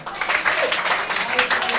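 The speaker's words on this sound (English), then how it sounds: "Clapping" Group of students clapping together in an English class, a brief burst of dense applause with a voice talking over it.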